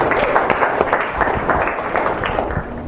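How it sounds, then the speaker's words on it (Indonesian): Students in a mathematics classroom clap together nearby, a fairly loud burst of uneven, overlapping hand claps that carries on steadily for a few seconds with little talk. "tepuk tangan untuk Karina dan Rizka"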